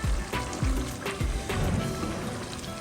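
Keema with yogurt and julienned ginger frying in a pan for matar keema, a steady close sizzle broken by several sharp stirring scrapes and clatters.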